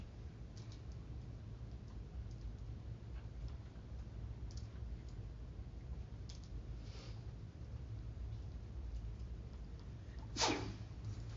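A single short sneeze near the end, heard over a steady low hum of background noise during a quiet lecture on Leopold's land ethic, with no talking.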